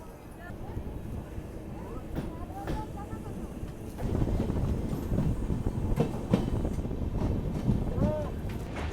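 A new train pulls out and rolls along toward Jaisalmer, a steady broad rumble of wheels and carriages that thickens partway through, with gusty wind buffeting the microphone throughout.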